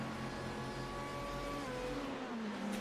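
Race car engines in a Le Mans racing game, GTE class cars droning steadily with a rising and falling engine tone as one car passes through the field, loud and continuous with no voices.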